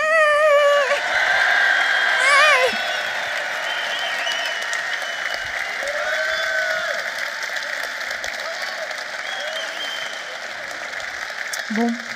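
Audience applause at a company party's best newcomer trophy vote: a dense, steady wash of clapping that stays loud and even for the full twelve seconds, with a brief tonal sound near the start.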